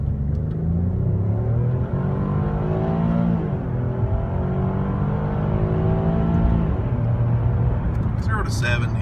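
A car pulls hard at full throttle from a standstill toward 70, its loud engine note climbing steadily and dipping briefly at a gear change before rising again, heard close from inside the cabin.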